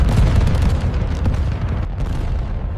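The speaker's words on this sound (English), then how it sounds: "Seconds later, the first anti-aircraft guns erupt into action." Dense, continuous barrage of booming anti-aircraft guns firing over a harbor during a WWII B-25 bomber raid, heavy low rumble with overlapping bursts and no pauses, loud and close.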